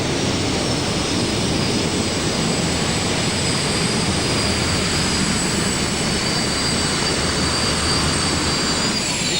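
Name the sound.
turbine-powered modified pulling tractor engines roaring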